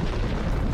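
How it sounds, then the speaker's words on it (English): A booming explosion in the Sea of Thieves pirate game, a dense, loud, low rumble filling the whole short moment with no talk. "It's definitely exploding."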